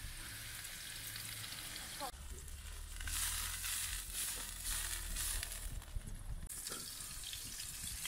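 Garlic, onion, pepper and sausage frying in olive oil in a pan, a steady close hiss and crackle that swells for a few seconds with stirring, faint talk at most.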